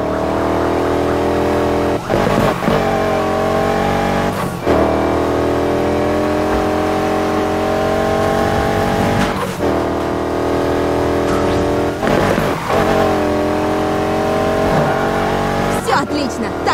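Racing cars in Need for Speed Heat during a night race: a loud, continuous engine roar with rising revs and brief dips at gear shifts, sustained and close throughout.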